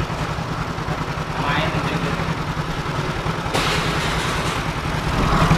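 A Yamaha motorcycle engine idles evenly with a steady low rumble and no stutter, running continuously and close by, with a voice partly over it.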